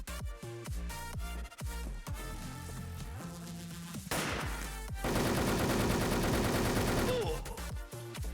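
Gunfire in the online shooter Wolfteam: several short automatic bursts, then a dense, loud, continuous spray of shots lasting a few seconds before it breaks off.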